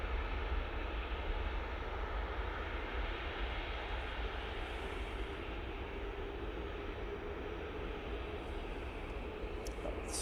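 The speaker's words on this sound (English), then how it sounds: "Flying on behalf of SAS now departing." An SAS aircraft departing from a snowy Manchester Airport, heard as a steady, broad roar of jet engines, loud and sustained throughout with no talk.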